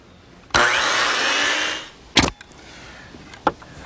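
A circular saw cutting gazebo boards at a 15-degree angle, a single loud whining cut of about a second and a half that tapers off, followed by a few sharp knocks of the wood.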